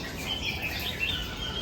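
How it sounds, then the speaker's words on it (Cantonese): Small birds chirp and tweet inside a park bird aviary, a busy scatter of high calls over a low steady ambient hum. "有好多雀仔啦呢度"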